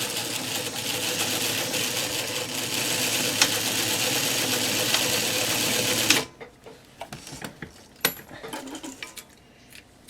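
A sewing machine runs steadily for about six seconds, stitching back and forth over elastic on a wrist pincushion, then stops, leaving light clicks and handling sounds.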